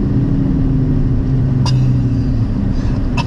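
An Aston Martin DB11 driving with its gearbox in Sport Plus, a steady, close engine drone with low rumbling tones and a couple of brief sharp clicks, no talk over it.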